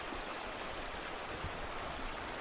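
Fast-flowing forest stream swollen by overnight rain, a steady broadband rush of water that stays constant and fairly close, with no voices over it.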